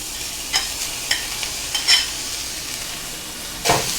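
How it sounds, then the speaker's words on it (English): Chopped ginger, scallion and garlic stir-fried in a pan over high heat: a steady sizzle with several sharp scrapes and clinks of a spatula against the pan, close and fairly loud, with no speech. "Fry it."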